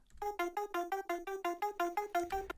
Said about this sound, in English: it has a bit crush effect on it